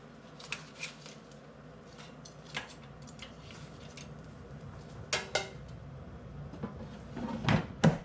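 Pieces of fried chicken get flipped in an air fryer basket, making quiet scattered clinks, scrapes and metal knocks that grow busier near the end.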